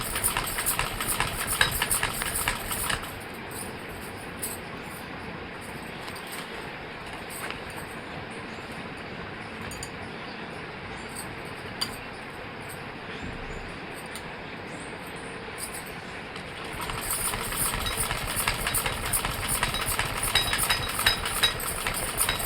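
A sewing machine stitching cloth runs steadily for over twenty seconds, a continuous mechanical whir and rattle that sounds brighter and busier at the start and end, with no talk.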